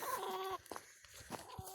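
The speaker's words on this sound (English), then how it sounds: "It's the first chicken we've lost in a long time." A chicken lets out a short drawn squawk followed by a few quick, soft clucks, fairly faint and nearby.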